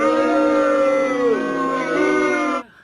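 A puppy lets out one long, loud, wavering howl close by, its pitch sliding and bending before it cuts off abruptly near the end.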